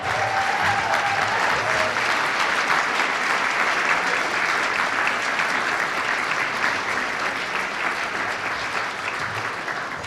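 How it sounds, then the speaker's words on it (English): Warm, continuous applause fills a black-tie gala ballroom as the crowd claps for the board of directors, a dense and steady roar of hands that stays strong for the full stretch. "Let's get a round of applause."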